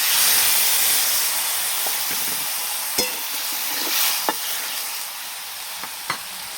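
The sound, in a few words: water added to frying vegetables, sizzling and stirring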